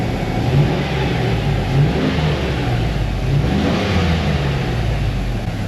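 A 1978 Corvette engine revs, a loud, close mechanical rumble rising and easing slightly while the motor runs steadily, with no voices.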